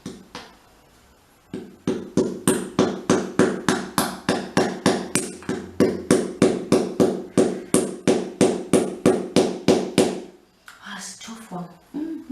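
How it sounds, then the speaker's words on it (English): During garden potting and sowing work, a hammer strikes something on its edge to split it open, with roughly two dozen sharp, rapid, evenly paced knocks, loud and close, then a brief pause and a few scattered taps. "I'm going to use a different hammer, I think. So just split it open on its edge"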